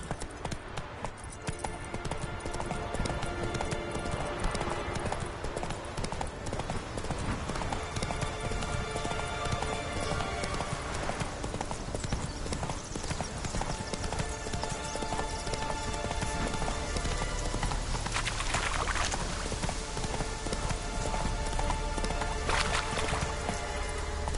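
Galloping horse in the Witcher 3 video game, a continuous rapid clip-clop of hooves that runs steadily for over twenty seconds under a dense layer of game music and ambience.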